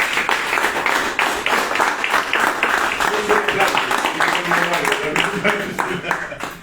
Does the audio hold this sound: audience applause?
yes